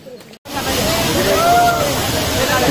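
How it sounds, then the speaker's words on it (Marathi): A waterfall tumbles down the Raigad fort trail during heavy rain, a loud, close, continuous rushing roar that starts after a brief cut at the very beginning, with a faint voice underneath. "किती भयानक पडतंय बघा मला धबधबा"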